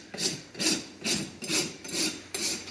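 A hoof rasp files a horse's hoof during trimming, six steady rasping strokes about half a second apart, close and fairly quiet with no talk.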